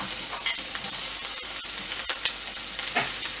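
Onion and tomato sauté in a hot pan for ridge gourd chutney, a steady close sizzle broken by faint scrapes and clinks of stirring, with no voices.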